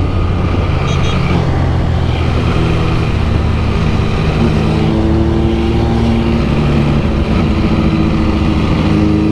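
MV Agusta F3 Rosso motorcycle accelerating hard, its engine note rising through the revs in a loud, continuous high-pitched scream with wind rush, close to the rider.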